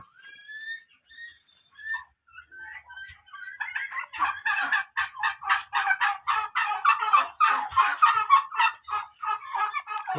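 Turkeys on a farm where turkeys and bottle gourds are raised together, calling and gobbling; a few scattered calls at first, then a dense, rapid run of overlapping gobbles fairly close by.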